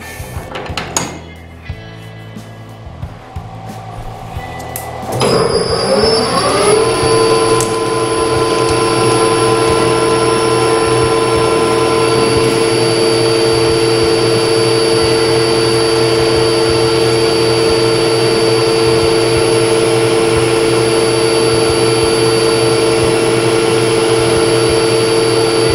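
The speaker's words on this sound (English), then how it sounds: "I'm just gonna face it off and put a chamfer on there to make it" A metal lathe facing off and chamfering a part, fed by hand in a workshop. A few quiet knocks and clicks lead into the machine spinning up, then a loud, steady motor hum with a high cutting whine holding to the end.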